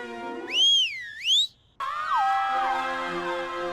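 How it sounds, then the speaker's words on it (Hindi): A referee's whistle blown loudly in two rising-and-falling warbling blasts at the start of a family footrace, followed after a short gap by a long, steady, shrill whistle tone that carries on to the end. "लेकिन सीटी बजाने के बाद ही भागना है"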